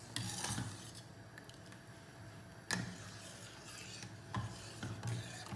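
Tharikanji, a semolina porridge, is stirred with milk in a pan: soft rasping strokes and occasional utensil scrapes against the metal, quiet and close, with a few sharper knocks.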